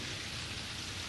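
Continuous rainfall in Terraria makes a uniform wash of hiss throughout, with no other sounds or speech.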